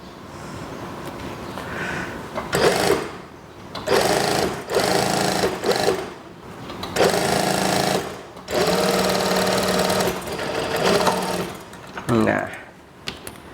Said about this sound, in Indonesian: saya jahit dulu